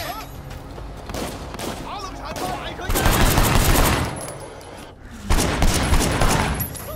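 Heavy gunfire in the open-world action game Sleeping Dogs, dense bursts of automatic shots and booming blasts in loud waves, with voices shouting over the shooting.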